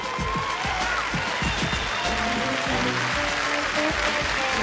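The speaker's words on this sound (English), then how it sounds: "Let's give them a warm round of applause" An audience at a battle competition event applauds the contenders, steady clapping mixed with heavy low thumping music or stomping beats running underneath throughout.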